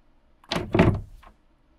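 A door opens with two quick, muffled knocks or clunks close by, followed by a faint trailing click, in an otherwise quiet room.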